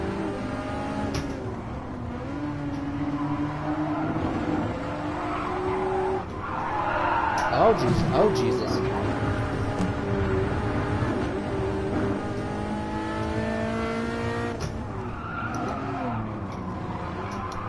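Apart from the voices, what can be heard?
Mazda 787B Le Mans race car engine in a sim racing game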